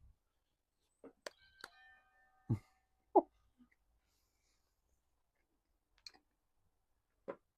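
A traditional kinetic doorbell chime, struck once and ringing out in clear tones, surrounded by sparse clicks and taps in a quiet room.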